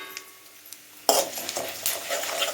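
Mustard seeds and spices hit hot sesame oil for a wedding-style brinjal kuzhambu, bursting into a sudden loud sizzle after a quiet start, then crackling steadily with occasional stirring clinks close by.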